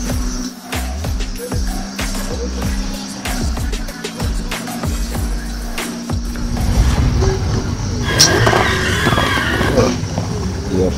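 A game car driven flat out with an upgraded engine, roaring steadily with tire skids and squeals, loud and continuous, rising in intensity toward the end.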